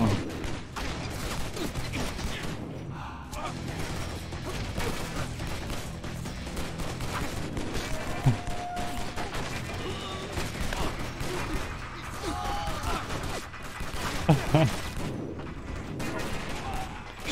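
Dense gunfire in the Xbox 360 game John Woo's Stranglehold, set in a Hong Kong marketplace: rapid, overlapping bursts and shots keep up almost without pause, with a voice talking over the chaos at times.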